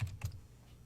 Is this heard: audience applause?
no